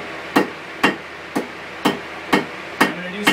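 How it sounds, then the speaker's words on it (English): A hammer strikes hot steel on an anvil while a leaf is hand forged and pinched off: seven sharp, ringing blows at an even, steady rhythm, loud and close, with no speech. "I'm going to set it against this side of the anvil and begin pinching it off"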